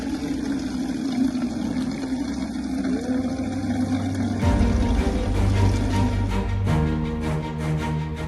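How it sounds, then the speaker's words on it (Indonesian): Water gushes steadily from a newly built bore well at a village prayer house in Aceh Tamiang, a continuous rushing flow that turns louder and more turbulent partway through, with pump-like droning underneath. "Suara gemericik air kini terdengar di musola Dusun Sukamulia"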